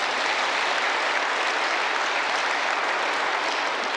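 A church congregation at a New Year worship service marking a fiftieth anniversary claps vigorously, a dense, loud, unbroken roar of applause that stays even throughout.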